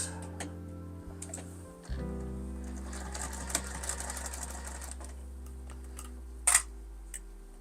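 A sewing machine stitches fabric for a book sleeve at a short stitch length, a steady mechanical whir broken by brief ticks and pauses, with one sharp click near the end.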